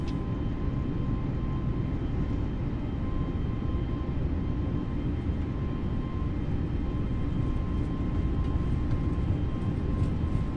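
An Air Canada Airbus A320neo in Microsoft Flight Simulator roars steadily through its takeoff roll, a constant loud jet-engine drone with a faint whine that stays even throughout.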